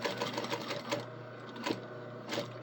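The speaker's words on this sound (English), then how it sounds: "We're just going to stitch straight down to there and then back it up." A sewing machine stitches a straight seam along a kilt waistband, its steady motor hum carrying a fast needle rhythm at close range, with brief slowdowns and restarts as the stitching backs up.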